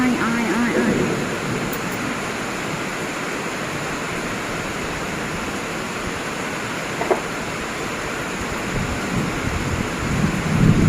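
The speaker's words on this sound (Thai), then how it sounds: "ลมแรงมากอ่" Strong wind roars steadily and loudly for the whole stretch during a rainy, stormy night, a dense broadband rush with a few brief gusting bumps.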